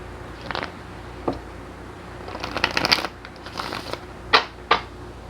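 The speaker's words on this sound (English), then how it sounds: "let me just shuffle a little bit more" Tarot cards riffled and shuffled in short papery bursts, close and fairly quiet, with a few crisp snaps and pauses between them.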